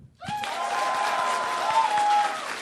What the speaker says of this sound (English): Give me a round of applause if you want Skyrim really badly